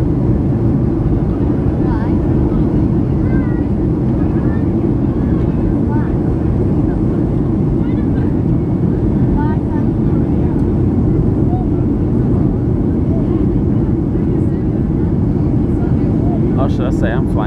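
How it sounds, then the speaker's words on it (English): A Boeing 737-800 in Jet2 livery flies from Manchester to Málaga, and its cabin carries a loud, steady, unbroken low engine roar and airflow rumble throughout, with no distinct events. "Boeing 737-800 jet 2 aircraft."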